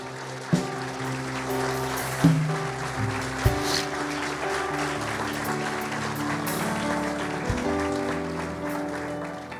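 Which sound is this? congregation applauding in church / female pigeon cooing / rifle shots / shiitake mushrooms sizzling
congregation applauding in church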